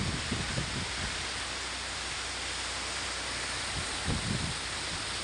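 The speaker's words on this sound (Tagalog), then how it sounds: "Grabe lakas ng ulan." Dense, continuous hiss of heavy rain pouring down during a storm with strong wind, with a couple of faint low bumps but no talking.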